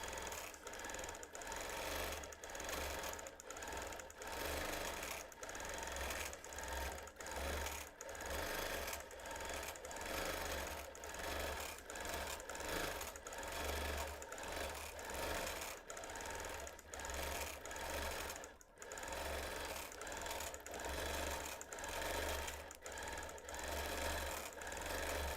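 A home sewing machine quilts straight to the edge of a quilt made without batting, its fast steady needle chatter running loud and close with only brief dips in rhythm.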